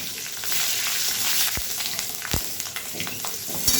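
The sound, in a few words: green chillies frying in leftover fish-frying oil in a kadai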